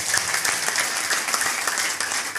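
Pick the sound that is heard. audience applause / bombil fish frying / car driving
audience applause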